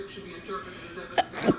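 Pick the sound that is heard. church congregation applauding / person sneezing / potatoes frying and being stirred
person sneezing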